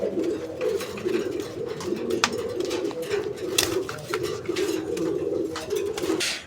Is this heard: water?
no